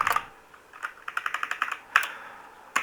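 Fingers type a short text prompt on a computer keyboard, tapping out a quick run of crisp, close keystrokes with a few separate clicks before and after.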